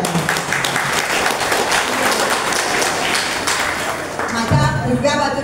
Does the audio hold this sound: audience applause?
yes